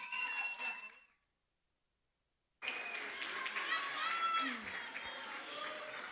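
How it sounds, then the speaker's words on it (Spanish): An audience at a youth singing contest semifinal gives a contestant a round of applause, brief clapping, then a pause, then a broad, steady wash of claps and crowd noise continuing to the end. "fuerte ese aplauso para Agostina Moyano."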